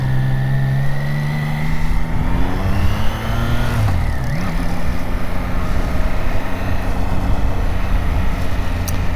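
A Triumph Trident 660 motorcycle is ridden out on the road, its triple-cylinder engine droning loudly and steadily as it shifts and settles at about four seconds. Wind rushes heavily under the engine, and no one speaks.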